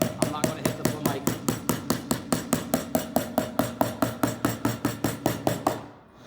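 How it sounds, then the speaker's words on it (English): A regular hammer tapping on top of a laminate workpiece during a fabrication demonstration, about two dozen quick, evenly spaced sharp knocks close up, ending in a brief silence. "I'm just tapping on top with a regular hammer"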